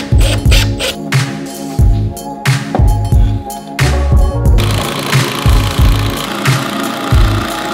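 A power driver screwing 3-inch wood screws through wooden arches into wall studs, loud close whirring bursts repeating in a steady rhythm, then a longer continuous drive, with no voices.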